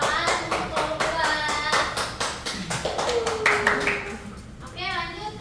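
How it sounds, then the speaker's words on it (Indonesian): Classroom clapping for a presenting group of students, a run of distinct, fairly close hand claps with children's voices chattering over and between them. "Beri tepuk tangan untuk kelompok 2."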